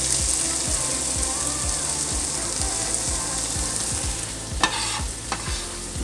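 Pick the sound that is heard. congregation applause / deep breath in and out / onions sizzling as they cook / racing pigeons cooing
onions sizzling as they cook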